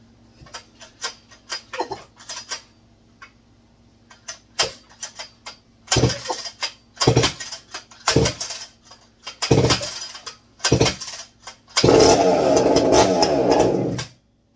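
A McCulloch Super Pro 125 chainsaw is pulled over repeatedly with sharp starter bursts and sputters, catches, and finally roars into a strong sustained run close by.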